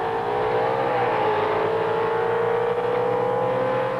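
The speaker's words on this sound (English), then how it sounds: "That's the 37 Chevy Coupe there, and going up against a pretty modern-looking car in the Z28 Camaro." A 1937 Chevy coupe gasser and a 1970 Hot Rod Magazine Z28 Camaro drag racing, engines roaring loud and steady with a sustained high rev that climbs and holds throughout, no voices.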